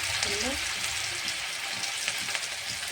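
Chicken pieces fry in very hot oil, giving a dense, continuous hiss and crackle that stays loud and even throughout, with a faint voice briefly beneath it.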